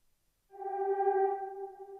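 A smooth sustained synth tone swells in after a short silence, adding atmosphere to a dancehall and Afrobeats beat, holding steady and soft before tapering slightly, with no voices.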